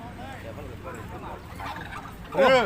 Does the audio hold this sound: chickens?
yes